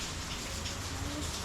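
Steady rain falling outdoors, a dense even hiss that stays constant throughout, with no talk over it.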